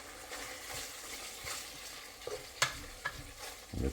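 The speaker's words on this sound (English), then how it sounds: "The bacon is starting to sizzle" Bacon sizzles steadily in a frying pan with a continuous crackling hiss, broken by a few clinks and scrapes of a utensil stirring near the end.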